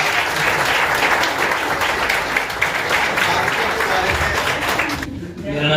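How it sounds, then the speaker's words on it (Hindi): An audience claps loudly and continuously in a coaching institute gathering, a dense roar of hands that holds steady for several seconds before thinning out near the end. "तो एक बार जोरदार तालियां।"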